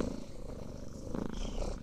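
A cat purring close by, a steady, soft, low rumble that keeps going without a break.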